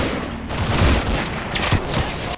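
A World War II mortar barrage in the Combat Mission Final Blitzkrieg game, near Aachen, heard as a dense, loud roll of explosions with heavy low booms and crackling blasts that overlap continuously.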